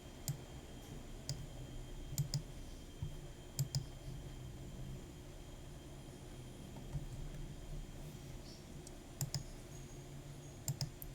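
Faint, sparse clicks of a computer mouse sound in a quiet room, arriving singly or in quick pairs at irregular intervals over a low steady background hum.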